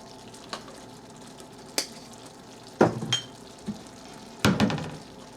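Mushrooms with red wine vinegar stirred in a pan, a soft sizzle underneath several distinct scraping and clinking strokes of a utensil against the pan, spaced irregularly, no talking.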